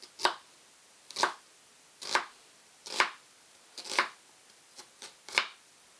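A knife chops an onion into 1.5-inch pieces on a board: about eight crisp, evenly spaced strokes roughly one per second, close and clear against a quiet background.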